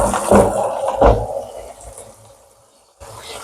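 Water sloshes and pours as soaked potatoes are rinsed, a couple of splashy bursts up close that fade into quieter trickling before a final gush.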